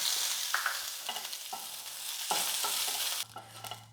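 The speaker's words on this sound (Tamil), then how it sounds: "இப்போ இதிலே வந்து கொஞ்சம் கருவேப்பிலை வந்து போட்டு பொரித்து எடுத்துக்கலாம்" Curry leaves frying in hot oil for puliyodharai spice powder, giving a steady close crackling sizzle with several soft stirring scrapes spaced through it.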